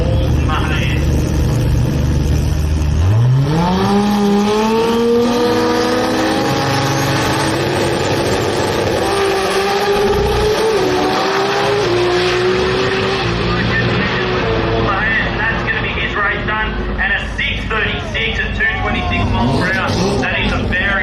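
Two drag race cars launch side by side on a drag strip, an orange BMW against a Toyota Celica, engines screaming up through rising revs at close range while an announcer talks over them throughout.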